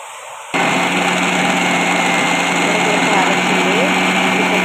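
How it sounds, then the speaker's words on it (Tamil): A kitchen mixer grinder grinding masala of turmeric powder, garlic and onion switches on abruptly and runs as a loud, steady high-pitched motor whine with grinding rattle, close and continuous. "மிக்சியில் வந்து குறை குறைப்பாக அரைக்கணும்"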